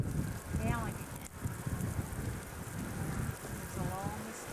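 Hail falls during a storm as a steady, dense pattering rush with gusting wind noise, while a person speaks quietly over it.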